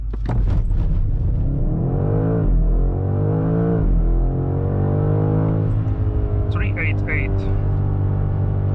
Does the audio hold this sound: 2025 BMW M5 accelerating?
yes